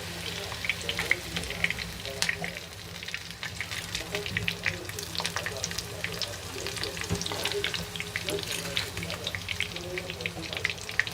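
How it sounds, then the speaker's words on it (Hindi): Bitter gourd (karela) fries in a pan with a steady, dense crackling sizzle and scattered sharp pops, close and continuous throughout, with no voices over it. "तब तक हम इनको करेले को फ्राई करेंगे।"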